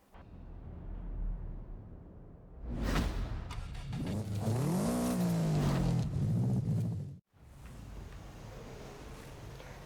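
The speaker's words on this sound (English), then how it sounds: "So here we are in a race, and of course, as I'm gonna drive the car, so the car feels good, driving pretty good." A race car in a driving video game passes with a whooshing rush, its engine tone rising and falling in a sweeping pitch bend, then cuts out abruptly before a quieter engine drone resumes.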